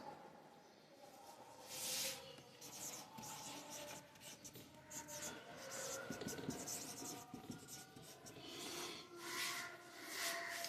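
Pen scratching steadily across paper while a physics question on vectors is written out, a faint close-up rustle of continuous strokes with no talk.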